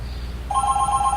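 A phone rings in a short, bright electronic burst over a low background hum.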